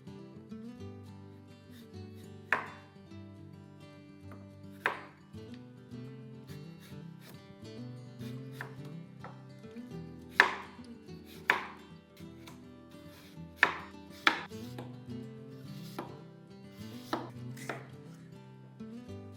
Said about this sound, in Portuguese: vamos pegar as outras 3 maçãs e vamos cortar elas em fatias finas